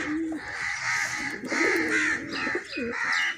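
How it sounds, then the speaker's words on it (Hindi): Breeder pairs of pigeons kept on a home rooftop coo repeatedly in soft, rolling calls, several birds overlapping close by with no talk. "इनमें कुछ कबूतर हैं जिनकी हमने पर पटाई की हुई है पहले से"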